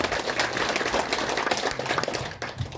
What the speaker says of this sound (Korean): 큰 박수 환영해 주시기 바랍니다